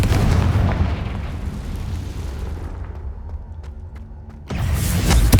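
A Confringo blasting spell in Hogwarts Legacy sets off a loud, rumbling explosion with a long roar that fades. A second heavy blast then hits close by.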